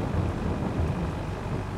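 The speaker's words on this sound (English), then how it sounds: "This rain needs to stop." Steady, dense rainfall from the weather in the farming video game Farming Simulator 22, a continuous hissing wash with a low rumbling undertone and no breaks.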